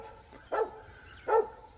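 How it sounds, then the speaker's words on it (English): A dog named Cowboy barks twice at a medium distance, two sharp, evenly spaced barks over a quiet background. "What you barking at, boy?"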